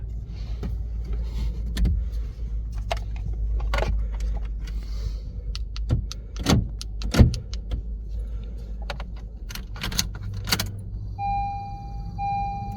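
Key fob tested on a 2013-2017 Honda Accord: sharp lock clicks and thuds spaced across the stretch, a couple of fuller mechanical clunks, then a steady electronic chime near the end, all close with no voices.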